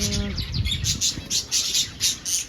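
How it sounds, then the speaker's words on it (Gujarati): Small birds chirp in a rapid, repeating series of bright, high tweets over a low background rumble, fairly close and clear. "અહીંયા પણ બર્ડ છે"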